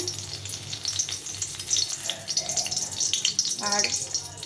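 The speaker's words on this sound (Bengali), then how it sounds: "এখানে আমি তেল গরম করতে দিয়েছি পরিমাণ মতো তেল দিয়েছি এখানে দেবো আমি দু তিনটে শুকনো লঙ্কা" Dried red chillies crackle and sizzle in hot cooking oil, a steady close frying hiss with a brighter burst of spitting near the end, for cabbage ghonto.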